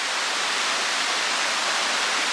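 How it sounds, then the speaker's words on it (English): Waterfalls pour down a rocky Appalachian Trail descent, a dense, even roar of falling water that fills the whole moment without pause. "and just take a look at the waterfalls"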